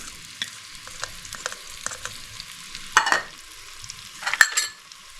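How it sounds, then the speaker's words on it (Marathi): Chopped onion with coarse ginger-garlic paste frying in a pan for a traditional Marathi vegetable dish, a soft steady sizzle broken by two louder bursts of stirring and scraping, close up with no talk. "थोडा कांदा हा मी परतवून घेणार आहे त्यामध्ये मी आल्या लसणाची पेस्ट म्हणजे जे आपण आता जाडसर केलेलं आहे ग्राइंड ते मी टाकणार आहे तेही सोबत फ्राय होणार आहे"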